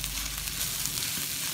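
Fried rice with fermented pork and pickled vegetables sizzling hard in a wok, a loud, steady crackle of frying heard close up and alone, with no talking.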